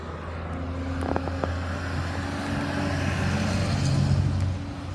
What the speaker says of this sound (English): Big truck going by.